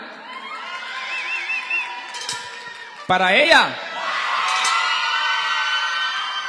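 A party crowd at a Canal 13 celebration in Costa Azul cheers and shouts with scattered whoops, the noise swelling into a loud burst midway and staying lively while people talk.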